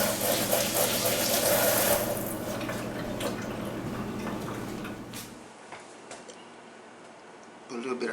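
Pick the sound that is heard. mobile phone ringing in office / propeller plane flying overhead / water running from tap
water running from tap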